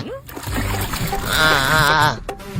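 Water poured over someone's face splashes and splatters during playful Ayudha Puja celebrations, with excited voices talking over the sound throughout.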